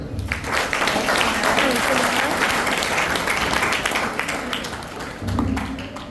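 Audience at a secondary-school elocution competition applauds after a speech. The clapping is full and sustained for about six seconds, with a faint murmur of voices underneath and a brief swell near the end.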